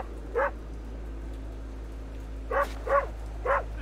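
A dog barks in the video game Worlds Align: one short bark, a pause, then three quick barks in a row, moderately loud over a low steady hum.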